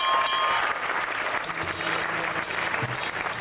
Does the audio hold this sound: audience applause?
yes